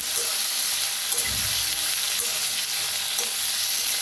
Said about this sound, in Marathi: त्याच्यातच टाकूया आता शिमला मिरची आणि बटाटो हलवून घेऊया मिक्स करून सगळं